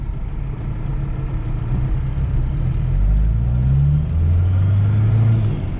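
A Chevrolet Opala Diplomata with a five-speed gearbox drives along a small road, its engine a loud, steady low rumble that rises in pitch as it accelerates, with no voices over it.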